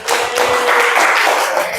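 A classroom of teacher-training participants claps together in steady, dense applause that holds for a couple of seconds.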